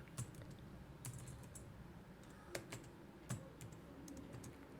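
Computer keyboard typing while entering Python code, a handful of quiet, separate key clicks spread across a few seconds with short pauses between them, close and faint, with no talking.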